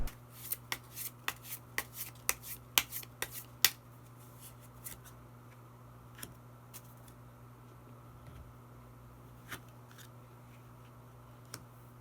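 Tarot cards being shuffled and drawn, a rapid run of crisp riffling snaps in the first few seconds, then sparse single card flicks and slides over a steady low room hum, with no voices.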